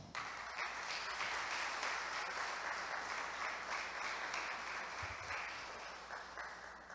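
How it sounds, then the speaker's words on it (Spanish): Church congregation at a memorial Mass for Santa Teresa de Jesús Jornet giving sustained, even applause from many hands, moderately distant and steady throughout, with no talk over it. "Un aplauso."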